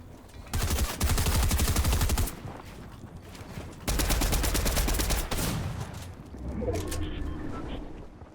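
Video game gunfire comes as two loud bursts of rapid automatic fire, each lasting a couple of seconds, followed by fainter scattered shots and ambient game noise.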